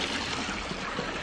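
Water sprays steadily from a hose onto people sunbathing outdoors, a continuous hissing, splashing rush close at hand.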